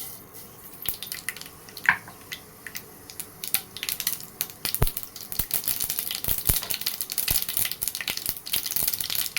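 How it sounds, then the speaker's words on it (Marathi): Mustard seeds sputter and crackle in hot oil in a pan, a dense run of sharp pops and spits that grows busier over several seconds, close and fairly loud. "मी दोन पळ्या तेल टाकते मोहरी टाकून घेऊया थोडीशी"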